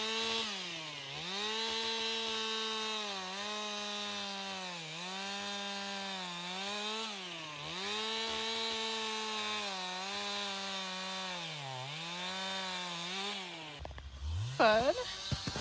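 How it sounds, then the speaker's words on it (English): A chainsaw drones steadily nearby, its engine pitch dipping rhythmically as it bites into wood, then revs up sharply at the end. "while we're working with the chainsaws"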